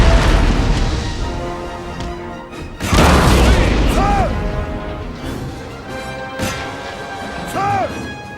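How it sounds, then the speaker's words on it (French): Cannon fire in the Napoleonic-era strategy game Total War: Napoleon comes as heavy booming blasts, a big crash near the three-second mark, over layered battlefield noise and game music, while a voice speaks over it. "Maintenez la pression en pilonnant l'ennemi avec vos canons."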